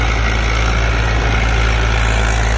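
A 42 HP tractor engine ploughing heavy, sticky soil in a tractor pulling contest, a steady low diesel rumble that runs unbroken and loud throughout with no talk over it.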